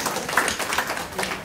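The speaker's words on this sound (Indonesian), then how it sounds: "Silakan tepuk tangan." An audience claps at an Indonesian literacy gathering to welcome the poet Sutardji Calzoum Bachri, a steady mid-level patter of many hands filling the room without a clear start or stop.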